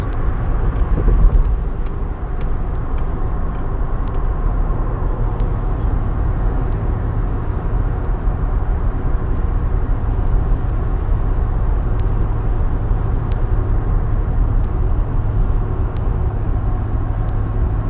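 Inside a car driving along a road: a steady, loud low rumble of road and engine noise fills the whole stretch, with faint clicks on top and no talking.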